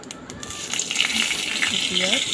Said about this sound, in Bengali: এবার কড়াইতে কালো জিরে কাঁচা লঙ্কা ফোড়ন দিতে হবে